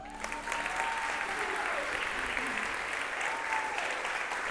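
Church congregation applauding first-time visitors at a Sunday service, steady sustained clapping filling the room, with a few brief voices and a faint tonal sweep rising over it.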